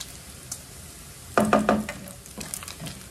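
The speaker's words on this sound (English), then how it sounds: "don't forget to saute them every now and then so that it won't be stick on the wok" Bacon sautéing in a wok, with a sizzling hiss under a burst of metallic scraping and clattering as it is stirred, then quieter stirring scrapes.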